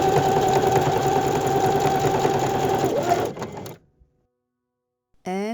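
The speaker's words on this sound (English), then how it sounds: "And sew all the way around with zigzag stitch or overlock." A sewing machine runs steadily, stitching zigzag seams around a t-shirt, then stops abruptly into silence, with a brief mechanical rattle at the end.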